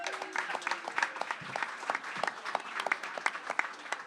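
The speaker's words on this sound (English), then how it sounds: "that alone deserves a round of applause" An audience at a Manatee Chamber of Commerce event gives a round of applause, a busy patter of many hands clapping at moderate volume, uneven and continuous throughout.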